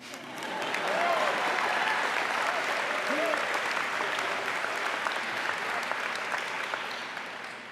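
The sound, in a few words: audience applause at a worship service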